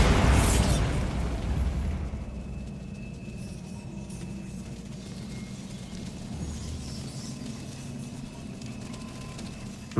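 A Bombarda blasting spell in Hogwarts Legacy, one loud close explosive burst at the start that quickly decays into a low rumbling ambience with faint tones.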